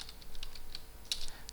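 Typing on a computer keyboard while entering text into a web page, a rapid run of light, close key clicks with a slightly louder cluster near the end, no speech.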